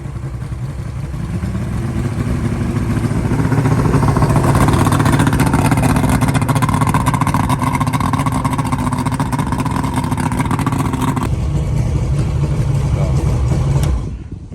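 A first boat's engine idles loudly and steadily with a low rumbling drone and rattling clatter, close up, then cuts out abruptly near the end.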